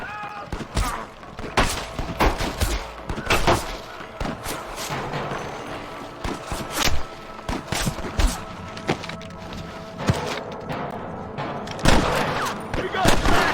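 Gunfire in the Western video game Red Dead Redemption, with repeated sharp shots and booms cracking out at irregular intervals, some near and loud, some more distant, under intermittent shouted voices.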